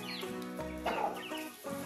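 Young chickens in a coop give off overlapping clucks and soft peeps, a steady close chorus of fowl calls with one louder burst midway, and no talking.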